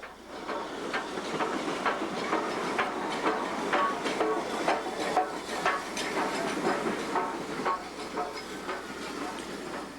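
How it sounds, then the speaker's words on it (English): A train passes through Rothley station on a heritage railway in Britain, a steady close rumble with rhythmic wheel clicks and a hiss running evenly throughout, with no voices. "a passing train"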